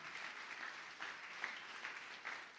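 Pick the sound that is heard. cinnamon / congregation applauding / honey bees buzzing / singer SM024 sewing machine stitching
congregation applauding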